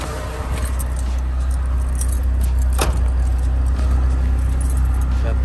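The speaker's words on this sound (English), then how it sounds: "take the keys out while the car is still running." A 1976 Toyota Celica engine idles steadily with a low rumbling drone while keys jangle sharply as they are pulled from the ignition, the engine running on undisturbed.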